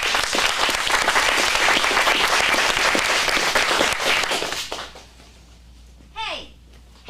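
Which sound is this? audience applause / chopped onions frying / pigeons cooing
audience applause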